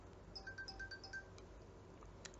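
Huawei phone ringtone preview in the 'Cartoon' tone, a quiet string of short bright chiming notes repeating in a quick rhythm for about a second, then fading into low background hiss with a couple of faint clicks.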